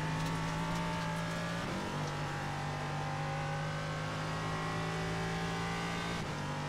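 A GT4 race car engine from the iRacing sim roars steadily at high revs. It drops briefly at two gear shifts, then climbs again with a continuous loud drone and no talking.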